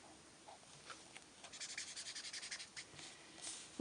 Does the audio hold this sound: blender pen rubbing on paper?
yes